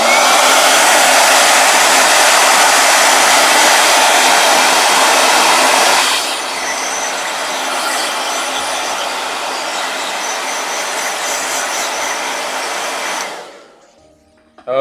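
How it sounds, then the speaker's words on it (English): A loud, close hair dryer blows steadily, dropping to a lower setting partway through, then shuts off near the end. "I'm going to do blow dryer a couple times, and it's going to be loud"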